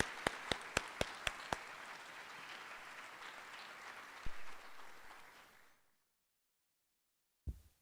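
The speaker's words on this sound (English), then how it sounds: "Please join me in a round of applause for these students" School awards ceremony audience applauds freshman students, a few sharp distinct claps at first, then a soft steady wash of clapping that fades out after about six seconds, followed by silence and a single thump.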